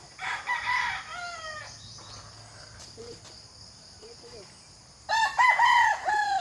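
Rooster crowing at a home where fowl and pigeons are kept, two loud crow calls at the start and end with insects chirping steadily in between.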